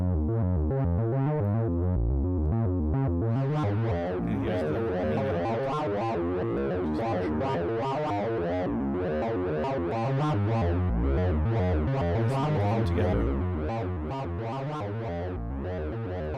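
Dense modular synthesizer tones from a Joranalogue Fold 6 wavefolder, with folded, buzzy harmonics, pulse and shift continuously, washed in a light reverb tail, with no voices.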